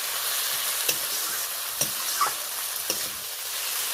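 Ginger paste fries with a steady close sizzle in a pan while a spatula stirs it, making four or five distinct scraping strokes at a fairly even pace.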